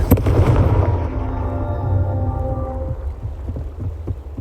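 A blasting spell hits rocks in the video game Hogwarts Legacy, giving one loud close explosive boom that rumbles and rings as it slowly decays over several seconds, with no talking.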